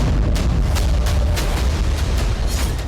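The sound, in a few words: explosions at naval base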